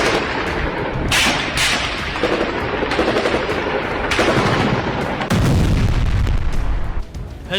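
Heavy gunfire and artillery blasts from the fighting on the Lebanon border, with missile fire, come as dense repeated bursts and booms that build into a loud, continuous barrage lasting several seconds.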